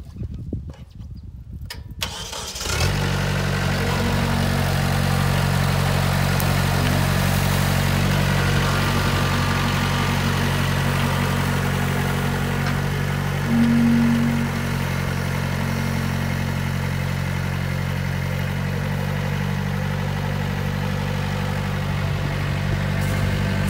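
A tractor engine starts after a brief rattle, then settles into a steady low, throbbing idle that runs on evenly and close by, with a short swell partway through and no talk.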